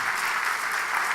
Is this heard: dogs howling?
no